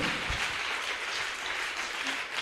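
A congregation applauding to acclaim God during a church sermon, a steady broadband wash of many hands clapping together, sustained and even throughout with no voices rising above it.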